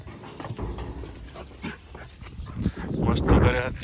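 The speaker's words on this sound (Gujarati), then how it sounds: "તો મિત્રો તમે જોઈ રહ્યા છો આપણા ડોગ" Two dogs romp and play on a farm, with soft yips, whimpers and short barks coming up through scuffling noise. Someone talks over them.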